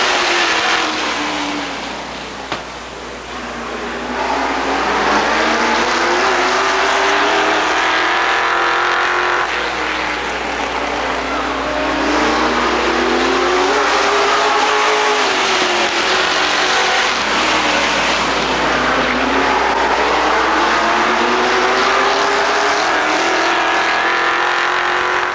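Race cars roaring around Rockford Speedway, a steady loud engine drone with rising and falling pitch as the pack circles the oval, continuous for the whole stretch.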